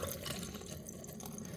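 Water pours steadily from a tap to rinse rice for cooking pilau, a continuous close splashing rush without talk.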